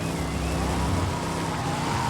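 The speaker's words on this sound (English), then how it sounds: "A classic Mustang." Classic Mustang in Forza Horizon 5, its engine a steady, fairly loud drone with faint tire noise, held evenly throughout without talk.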